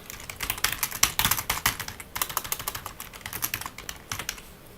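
Brisk typing on a computer keyboard while naming a new Capture One catalog, an uneven run of close, crisp key clicks lasting nearly five seconds before trailing off.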